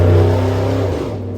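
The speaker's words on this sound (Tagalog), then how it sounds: "Ingay naman ng tambutso nun." A loud vehicle with a noisy exhaust muffler passes close by, its low engine rumble and drone dominating briefly before it fades away.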